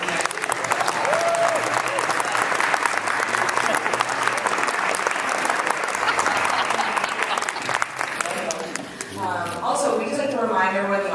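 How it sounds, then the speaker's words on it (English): An audience applauds steadily and loudly at the 2017 US university British Parliamentary debating national final in Denver, and a voice speaks briefly near the end. "let's go ahead and give another big round of applause for the top 4 teams"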